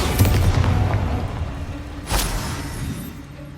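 A Bombarda explosion spell from Hogwarts Legacy goes off with a loud low boom at the start, rumbling on, then a second sharp burst near the middle fading into a lingering tail.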